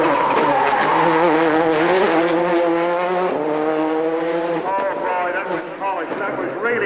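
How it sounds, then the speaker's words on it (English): A Toyota Corolla rally car races through a stage of the 2006 Manx International Rally, its loud engine note climbing and shifting steadily up close while commentary talk runs over it. "Number 1, Donnelly in the Corolla"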